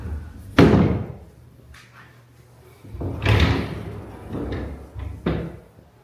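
Doors in a Fukuoka apartment being slid and pulled open, several thuds and bumps at irregular intervals, close and fairly loud with quiet stretches between.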